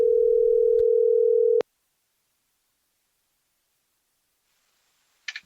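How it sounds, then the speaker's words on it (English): A telephone dial tone drones steadily for over a second while a call is placed, then cuts off abruptly, followed by silence and a brief faint click near the end. "let's get on the phone with ESPN's Pablo Torre"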